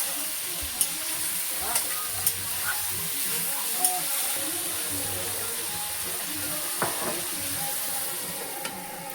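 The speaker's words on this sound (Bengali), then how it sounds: "একটু ভেজে নিলাম কোনো রকম" Continuous sizzling of meat frying in a pan, with a few sharp clinks of a utensil stirring.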